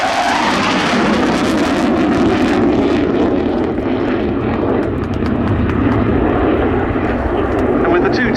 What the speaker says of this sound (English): Turbo Union RB199 turbofans in afterburner